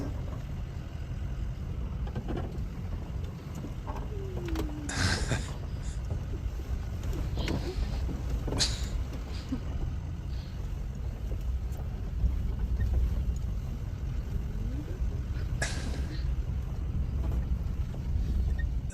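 A vehicle drives out across a glacier in Iceland, its steady low engine and road rumble continuous and mixed with wind buffeting the microphone, with a few brief thumps and creaks breaking through.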